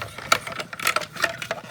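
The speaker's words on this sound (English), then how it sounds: "Go ahead and run it through your machine." A die-cutting machine pressing a snowflake die sandwiched between clear plates for a spinner card, giving a close run of uneven clicking and rattling bursts for under two seconds.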